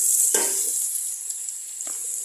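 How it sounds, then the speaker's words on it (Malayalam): Sliced onions with a pinch of salt sauté in hot oil for a chicken dum biryani, giving a steady close sizzle with two brief stirring scrapes, no talking. "നമുക്ക് അതിനകത്തോട്ടൊരു മൂന്ന് സവാള അരിഞ്ഞത് ഇട്ട് കൊടുക്കാം നല്ലപോലെ ഇത്തിരി ഉപ്പും ഇട്ട് വഴറ്റി കൊടുക്കാം"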